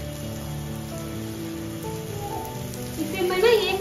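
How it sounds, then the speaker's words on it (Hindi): Carrots, ginger, chili and garlic fry in a pan for veg momos, giving a steady close sizzle that swells louder toward the end, with no talk over it. "फिर मैं उसमें जो सबसे हार्ड मटेरियल जो गाजर है उसे डालूंगी"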